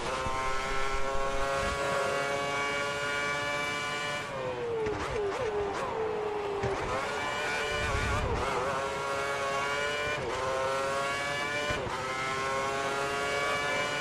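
A Formula 1 car engine from the F1 2010 racing game screams at high revs through a lap, climbing and dropping in pitch with gear shifts, loud and continuous.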